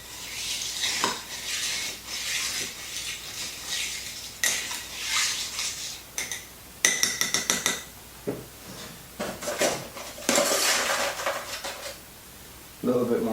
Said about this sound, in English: Give it a nice stir, and we're going to just try and really incorporate it all into the drink.